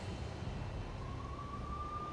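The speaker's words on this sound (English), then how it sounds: "I could hear the sirens. Their wail was a crescendo." Police sirens wail faintly in Max Payne's city streets, one rising tone emerging from a low rumbling backdrop of traffic and ambient noise, distant and quiet.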